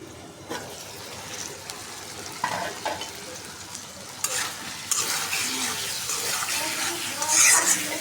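Curry being stir-fried in a pan at home, a continuous sizzle with repeated scraping and stirring strokes that grow busier and louder toward the end.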